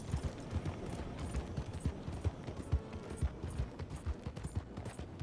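A horse gallops in the video game Red Dead Redemption 2, with quick rhythmic hoofbeats at a steady pace, fairly soft and even across the whole stretch.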